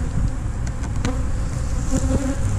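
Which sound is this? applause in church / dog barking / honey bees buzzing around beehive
honey bees buzzing around beehive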